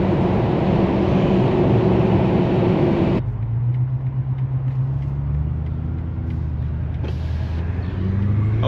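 A BMW F90 M5 engine pulls hard inside a tunnel, loud and close, with a sharp gear change partway through before the roar builds again.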